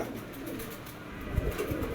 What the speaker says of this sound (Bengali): অনেক সুন্দর এবং অ্যাক্টিভ একটা নর কবুতর